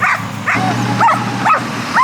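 A male Dalmatian yips and whines in short, repeated bursts close by, kept from a female in heat, rising and falling pitched cries about every half second over a low steady hum.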